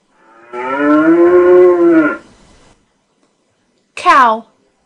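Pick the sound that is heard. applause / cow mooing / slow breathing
cow mooing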